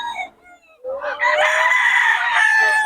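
A rooster crowing close and loud, one long drawn-out call following softer clucking and bird calls, at a fowl gathering.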